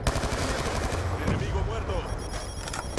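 Dense, continuous automatic gunfire and explosions from the Black Ops 2 video game, set on the Nuketown 2025 map, rattling loudly throughout without pause.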